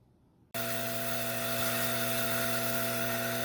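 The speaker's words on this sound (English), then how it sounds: "let's go down stairs to the trimmer and trim these up" A rock trim saw starts abruptly after a brief quiet moment and cuts soft wonderstone with a loud, steady whining buzz. Its constant tonal hum carries on unbroken to the end.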